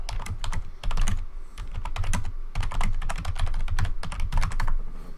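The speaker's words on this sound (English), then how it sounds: "Sorry for that loud typing." Loud, rapid clacking of keys on a computer keyboard, a dense, continuous rattle of typing close to the microphone.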